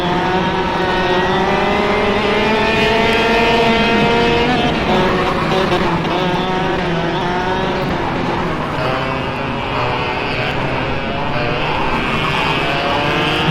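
Racing kart engines in the KartKraft video game, a dense continuous buzzing whine from several karts at once, with pitch rising and falling steadily through gear and throttle changes.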